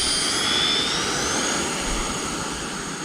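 A Freewing F-14 Tomcat 80mm RC jet with an afterburner system takes off, its electric ducted fans giving a loud steady whine and roar that slowly fades as it climbs away.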